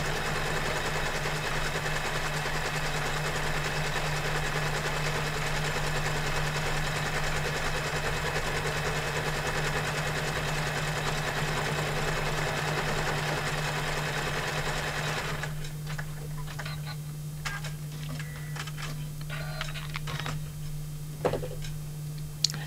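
An embroidery machine stitches a curvy in-the-hoop quilting design on a notebook cover, a close, steady rapid mechanical whir and ticking that runs continuously, easing slightly quieter near the end with a few small clicks.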